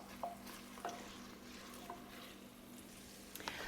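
Garlic frying in hot oil in a pot gives a faint, steady sizzle with a few soft clicks from stirring scattered throughout.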